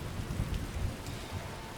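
Steady rain hisses over a low thunder rumble in the Skyrim video game, a soft, even wash of falling rain with deep rolling swells underneath and no talk.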